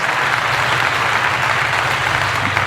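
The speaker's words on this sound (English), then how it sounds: "Long applause, too." Sustained, even applause from an audience on a sports talk show, steady and unbroken throughout with no talking over it.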